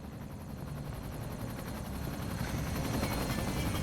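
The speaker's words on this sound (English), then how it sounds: "I can hear a helicopter outside" A helicopter's rotor thumps steadily throughout in the video game Black Mesa, a continuous chopping drone that grows slightly louder toward the end, with no talking.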